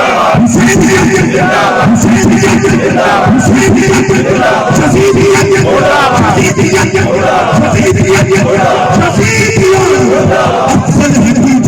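A large crowd at a religious gathering honouring the Ahl-e-Bait chants the slogan Husainiyat in loud, rhythmic unison, with repeated bursts of massed voices swelling and falling over a steady background roar.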